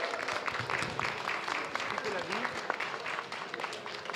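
Audience at a tart-baking prize ceremony applauds the contest winner with a lively patter of clapping, fairly near and steady, while voices talk and call out over it.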